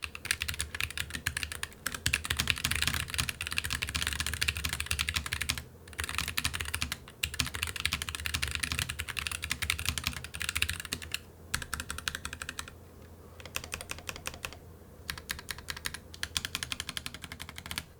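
Steady typing on a Keychron K3 Max, a wireless low-profile mechanical keyboard, with rapid clacking keystrokes running nearly continuously, close and clear, broken by a few brief pauses and no voices.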